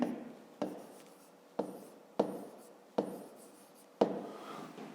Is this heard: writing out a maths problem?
yes